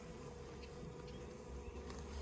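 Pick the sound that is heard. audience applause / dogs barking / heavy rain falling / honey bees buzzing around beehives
honey bees buzzing around beehives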